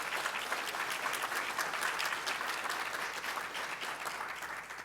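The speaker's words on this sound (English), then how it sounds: "If we could have a round of applause." Steady applause from a crowd at a community civic association's anniversary event, dense clapping that holds at an even level throughout and fades slightly at the end.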